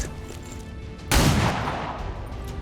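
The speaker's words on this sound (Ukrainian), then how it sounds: "Ще раз стріляю." A single sharp gunshot in the video game XCOM 2 bursts out partway through, loud and close, followed by a short decaying tail over a low background hum.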